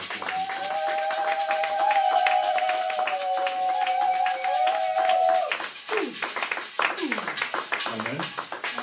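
A church congregation claps as their pastor passes, with rhythmic handclaps moderately loud under a sustained sung or hummed tone and a speaking voice.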